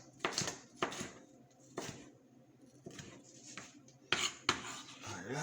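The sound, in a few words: sharp knife chopping vegetables like carrot and potato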